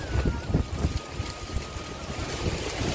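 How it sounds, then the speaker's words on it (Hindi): Strong wind rushes continuously against the microphone in heavy, rumbling gusts, with no voices. "पानी कम हो गए है हवा ज्यादा है भाई"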